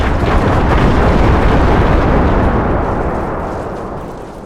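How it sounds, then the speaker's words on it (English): Grenade blasts in the Empire 2 war game tumble into one another as a sustained, loud rumble that slowly fades toward the end. "I think they just throw grenades 3 lines deep."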